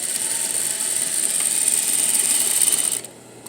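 Sewing machine running steadily while edge stitching the edge of jeans for a double-needle-style topstitch, a loud continuous whir that holds for about three seconds and then stops abruptly.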